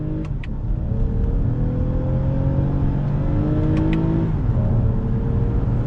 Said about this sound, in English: First gear, on throttle,